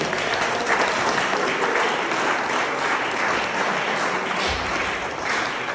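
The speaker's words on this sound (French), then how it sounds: "Je pense qu'on peut encore l'applaudir." Sustained, thick applause from a large audience honouring a departing regional council president in Haut-Rhin rolls on steadily for several seconds, a continuous roar of clapping without speech.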